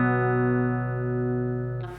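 A single sustained clean, undistorted electric guitar chord, played on a Telecaster or Les Paul, ringing steadily before being cut off with a short scratchy noise at the end.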